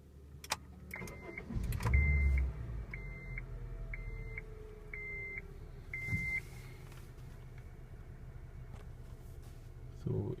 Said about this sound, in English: So now I'm switching on the car.